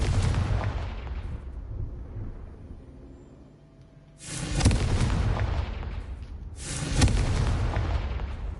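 Explosions from the Confringo fire spell in the Hogwarts Legacy video game: a booming blast that slowly fades, then two more sharp, loud bursts with rumbling tails.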